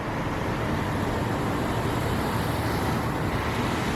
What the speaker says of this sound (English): Hold on, loud cars.